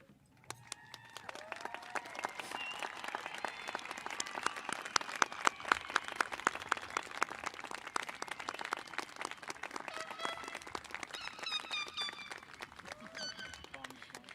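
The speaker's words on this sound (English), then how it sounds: "Let's give them another big round of applause." Sustained applause from a graduation ceremony crowd honoring scholarship students, dense clapping building to a loud peak midway and holding steady, with brief cheers and voices mixed in.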